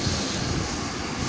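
A small handheld fidget spinner with a sliding design whirs steadily and close up, a continuous dense hum with no talk.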